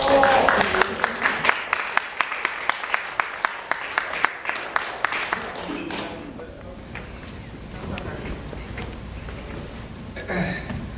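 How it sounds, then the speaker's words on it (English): Audience applause and cheering break out as the performer NSAA takes the stage at the African American Museum and Library, a dense clatter of clapping that thins after several seconds into scattered claps and crowd murmur. "we're going to go ahead and give a round of applause as NSAA graces the stage"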